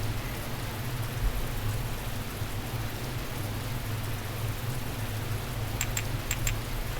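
Steady rain falls in a visual novel scene, a continuous even hiss of downpour with a low rumbling undertone and a few faint clacks near the end, with no voices.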